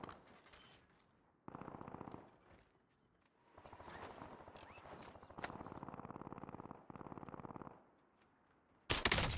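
Gunfire echoes in Call of Duty: Warzone while a player snipes from a tower. Shots arrive in separate rattling bursts with quiet gaps between them, then one loud crack lands at the very end.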